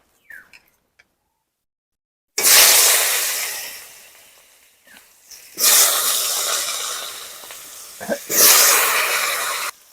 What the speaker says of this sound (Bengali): এই মাছ ভাজার তেলে আলুগুলো আমি ভেজে নেবো